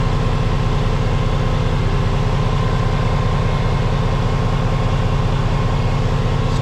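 A just-started engine idles steadily and close up, a low, evenly pulsing rumble with a rhythmic throb that holds constant for several seconds with no talking.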